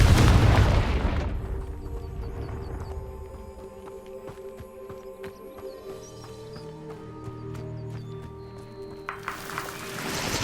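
Confringo blasting spell erupting in Hogwarts Legacy: a loud, close, broadband blast opens, then fades into a low hum and faint game ambience, with a second swell of noise near the end.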